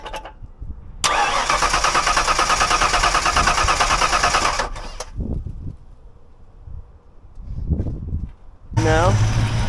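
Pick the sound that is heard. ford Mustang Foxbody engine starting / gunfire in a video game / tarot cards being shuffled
ford Mustang Foxbody engine starting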